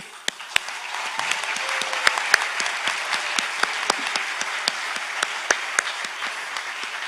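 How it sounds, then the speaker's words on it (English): Steady audience applause at a university convocation for graduating medical and dental students, a dense wash of many hands clapping with a few sharper claps standing out near the front, sustained throughout. "we applaud and salute all medical and dental graduates"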